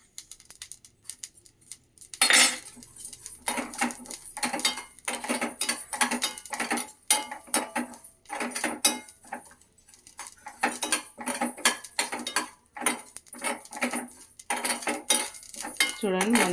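Mustard seeds and spices are roasted and stirred in a pan on a low flame, giving a string of sharp metallic scrapes and clinks from the spoon in an irregular rhythm, close and fairly loud, with no talking.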